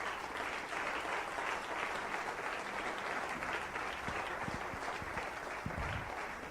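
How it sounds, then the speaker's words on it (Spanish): Church congregation applauding Christ during a sermon, a steady wash of many hands clapping at even loudness throughout, with a few nearer individual claps toward the end. "Darle un aplauso a Cristo, que Él se lo merece."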